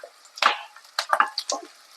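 Intermittent sizzling and crackling bursts from onions and curry leaves sautéing in a hot pan, with a few brief clattering stirs, close by.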